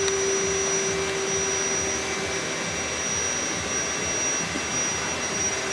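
A nearly new VanAir air compressor, about two to three years old, runs with a steady, even broadband hum and a faint high whine throughout, with no talk over it.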